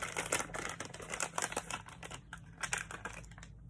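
An adhesive runner case is snapped open and its refill pulled out, producing a quick series of faint, close plastic clicks and small rattles over about four seconds.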